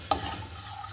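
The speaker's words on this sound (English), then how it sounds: "I'm going to give it a stir" Whole spices dry-roasting in a hot pan for lamb madras are stirred once, giving a single brief utensil scrape over a faint roasting hiss.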